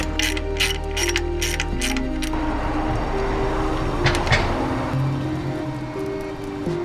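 A quick, light plastic rattle from a Toyota Celica PCV valve being shaken repeats several times in a burst, then gives way to mechanical clicking and faint shuffling noise nearby.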